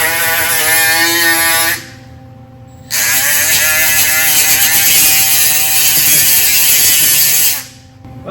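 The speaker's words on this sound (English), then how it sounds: "arguably the handiest tool in the toolbox is this 90-degree angle grinder" A 90-degree angle grinder in a truck-shop setting whines loudly and steadily, cuts out briefly, then spins back up and runs for several seconds before winding down.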